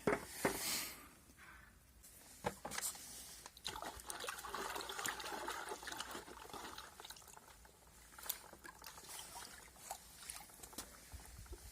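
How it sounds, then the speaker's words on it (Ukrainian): Copper sulfate solution is poured slowly into a large bucket of lime and stirred to make Bordeaux mixture for spraying fruit trees. A soft, steady trickle and pour with light splashing runs throughout, quiet and close, with no talking. "І зараз буду мідний купорос буду заливати у відро, у велике відро е, з вапном і помішуючи, обов'язково помішуючи."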